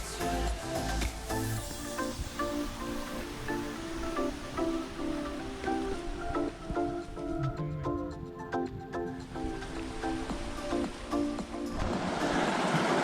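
Snowmelt runoff from Mildred Lake rushes steadily down near Convict Lake in the Mammoth Lakes mountains, a continuous close roar of flowing water with no talk.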